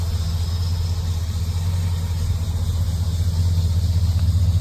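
A 1941 Mercury car with a Frenched antenna and removed drip rails drives on the road, its engine giving a steady, loud low rumble that holds throughout with no talk.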